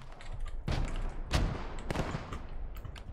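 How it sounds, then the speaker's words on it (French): Bursts of machine-gun fire from a World War II shooter game: heavy, rapid volleys with sharp cracks, loud and close, with no talking. "Tire un peu, la MG. Tire."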